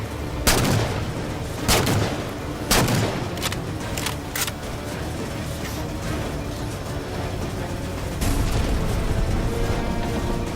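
Halo 4 DMR rifle fire in a game, a handful of loud single shots spaced a second or so apart early on, then a steady rumbling battle ambience with one more burst near the end.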